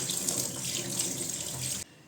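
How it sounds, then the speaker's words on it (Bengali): Tap water runs steadily into a kitchen sink while fish are washed, a loud close splashing rush that stops abruptly near the end. "এখন মাছটা ধুতে পারলে রান্নাঘরের কাজটা শেষ হয়।"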